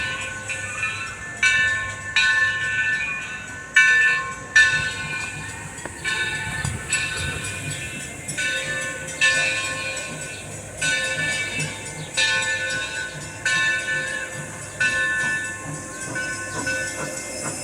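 A steam locomotive passing at Greenfield Village, with repeated rhythmic chuffs and hissing steam over rolling rail noise, fairly close and loud, with a rising and falling pulse across the pass.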